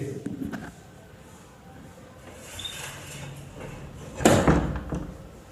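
A door being opened indoors in a home room: quiet shuffling and faint rustles, then one loud, sharp clunk near the end that fades out.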